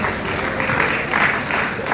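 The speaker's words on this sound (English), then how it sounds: "Please give a round of applause for her." Audience applause at a business summit presentation, a dense, sustained clapping from a sizable crowd, steady and fairly loud throughout.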